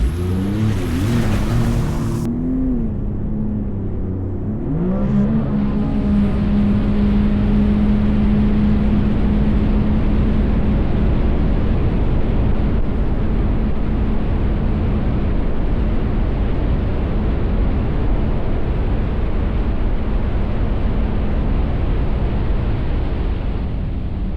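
A 2024 Sea-Doo RXP-X 325 personal watercraft with bolt-on mods roars at full throttle, a loud, close engine that climbs quickly and then holds a steady high-rpm drone for a long stretch.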